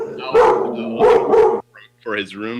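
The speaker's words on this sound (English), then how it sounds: "you could probably hear my dog barking in the background" A dog barking in the background, a few sharp barks among nearby talk, one close voice dominating while the barks come in short separated bursts.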